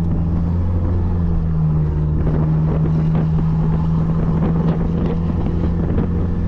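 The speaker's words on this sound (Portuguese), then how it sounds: "E o assovio da turbina dela ficou má demais" Turbocharged Hikux engine at stage 2 tune with a straight-through exhaust and stainless tip, a steady loud rumble with a turbo whistle held throughout, buffeted by wind noise on the road.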